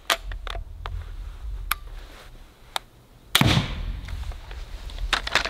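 An EK Adder crossbow shoots a blue bolt into a stack of five 2 cm plates, heard as a sharp release crack followed by a loud thudding impact, with lighter clicks of handling before and after.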